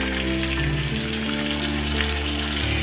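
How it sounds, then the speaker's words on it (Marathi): Onion and tomato sauté in a pan for a mixed dal, giving a close, even, continuous sizzle with no talking over it. "हे बघा कांदा आणि टोमॅटो परतत आहे"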